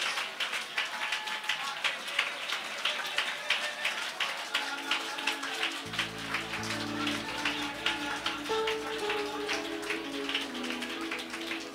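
A congregation at a prayer meeting claps in a steady, regular rhythm, many hands together at a moderate distance, with a keyboard-like musical tone joining partway through and voices around it.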